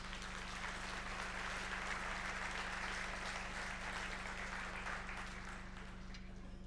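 Applause rises from the audience at the IDA Ireland annual conference, a faint, even wash of clapping heard from a distance over a steady low electrical hum.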